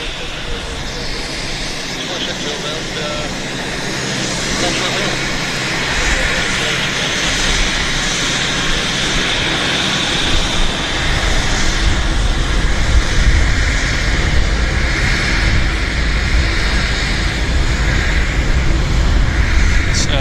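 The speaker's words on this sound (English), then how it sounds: "we've got 2 citations here and another corporate aircraft taxiing in" Two Cessna Citations and another corporate jet taxi in at Vancouver Airport, a loud continuous engine roar that swells gradually, with deep rumble building in the second half.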